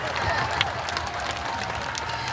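An audience at a Korean pumba (beggar-performer) comedy festival, the 2024 Eumseong Pumba Festival, claps steadily in a dense, continuous wash of applause with crowd murmur throughout.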